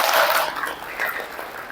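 Brief burst of audience applause at an education seminar on deep learning in Muhammadiyah schools, a dense crackling wash that fades slightly and swells again over under two seconds.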